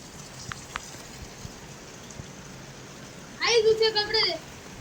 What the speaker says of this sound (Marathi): हे पहा, मी पाणी दाखवतो. पाऊस चालू आहे.